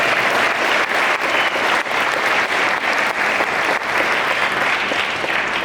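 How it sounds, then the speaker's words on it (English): Sustained audience applause at a foundation donation announcement for local African American organizations, dense and steady throughout at full volume with no speech over it. "I think that deserves another round of applause."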